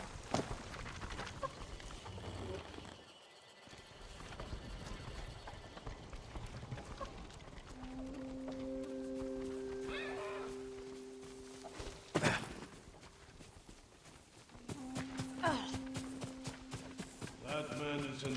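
Horse hooves in the Ghost of Tsushima video game, a busy clatter of galloping steps with thuds that fades mid-way, then returns alongside tonal game music cues and a sharp hit.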